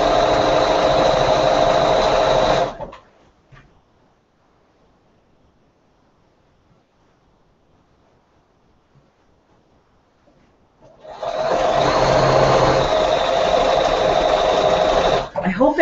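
A sewing machine stitches quilt pieces for a disappearing pinwheel quilt, running in a steady close whirring burst, stopping into near silence, then starting up again at the same even speed.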